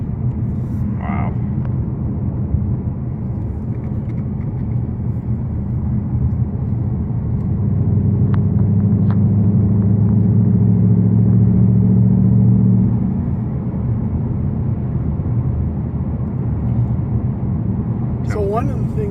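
A flat-plane-crank car engine drones steadily at low revs, about 1500 RPM in sixth gear at 55, swelling into a louder, rougher hum for several seconds before settling back; no talk over it.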